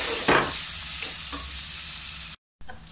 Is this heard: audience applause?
no